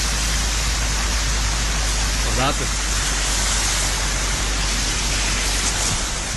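Steady heavy rain pours during flooding in the Treviso area, where swollen streams have overflowed into streets, homes and fields, a dense continuous wash throughout with a brief voice speaking once partway through.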